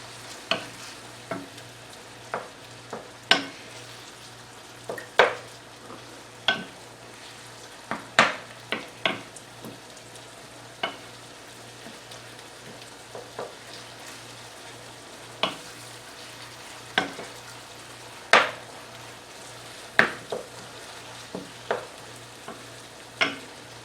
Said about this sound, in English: We're just going to stir it around until it's nicely browned